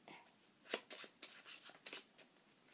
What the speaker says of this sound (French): le spectateur de son côté, lui aussi mélange le paquet